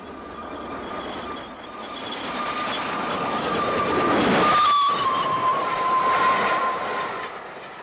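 A passing steam engine train rumbles and swells louder toward the middle then fades slightly, with a whistle-like tone and rolling wheel noise continuing throughout.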